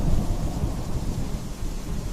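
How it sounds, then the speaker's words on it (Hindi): Heavy rain pours steadily with a deep, rolling rumble of thunder underneath, continuous and dense throughout. "और फिर आसमान से मूसलाधार बारिश होगी,"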